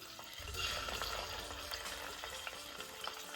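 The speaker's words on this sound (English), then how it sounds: "So we're gonna give it a nice sear to kind of hold it together" Wild rabbit pieces sear in a Dutch oven, a low continuous sizzle with soft spatters and a few light stirring knocks, close but quiet, no voices present.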